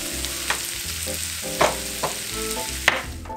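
Browned ground meat and onions are scraped from a pan into a crock pot for queso dip, a soft lingering sizzle broken by three distinct metal spoon clanks and scrapes, close and moderately loud.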